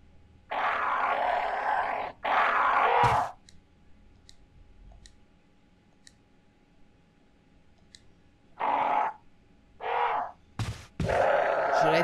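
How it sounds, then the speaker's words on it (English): Crows caw in the Resident Evil HD Remaster video game, with a harsh double burst early, then three shorter caws near the end, separated by a quiet stretch with faint clicks. "Am I hearing a crow?"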